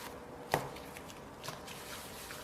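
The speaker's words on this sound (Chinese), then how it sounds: "揉好的面团直接搓成长条状，然后切成等份的面剂子。" A knife or scraper cutting a rolled rope of shaobing dough into equal pieces: one soft, distinct chop, then a fainter second cut about a second later, in a quiet room.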